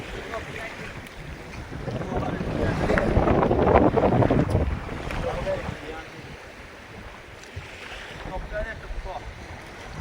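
Rushing, fast-flowing water churns steadily with gusty wind buffeting the microphone, surging louder for a few seconds before settling into a continuous roar.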